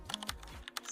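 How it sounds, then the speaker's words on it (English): Quiet keystrokes tap on a computer keyboard while text is entered for a large vinyl sign: a brief, faint run of several clicks in a quiet room. "Go to text, and we're going to start typing"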